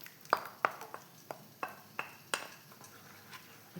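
Spoon stirring ground chickpea paste into a chickpea curry, a series of about ten distinct clinks and scrapes against the pot in an uneven rhythm over a faint background, no speech.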